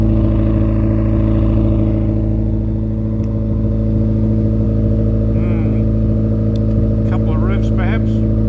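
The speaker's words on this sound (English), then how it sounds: "Well, if you can hear me, that's at idle." A hot rod bubble car engine idles steadily up close, a loud, even rumble that stays constant throughout with faint background voices.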